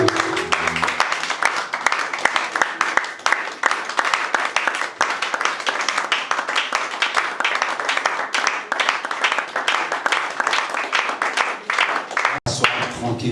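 A church congregation claps and applauds during a Sunday worship service, a dense, sustained burst of many hands that runs loud and steady before cutting off near the end.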